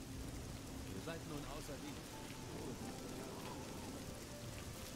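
Steady rainfall in The Elder Scrolls IV: Oblivion, a continuous hiss of rain running evenly throughout, with a voice and some faint melodic tones partly audible over it.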